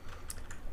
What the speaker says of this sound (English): I'm just typing X